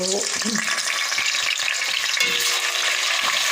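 Steady, loud sizzling of garlic ginger paste frying in hot oil, with occasional stirring scrapes, continuous throughout and close up.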